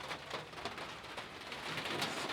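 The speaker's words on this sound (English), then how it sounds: "Do you hear the rain hitting my gazebo?" Rain patters on a gazebo roof, a steady dense hiss of drops with scattered louder taps, fairly close and even in level, with no voices.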